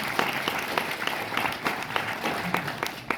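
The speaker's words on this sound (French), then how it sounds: "Applaudissez-la très très fort" Audience applause for a performer named Chloé at a live comedy show, a steady wash of many hands clapping with sharper individual claps standing out, loud and sustained throughout.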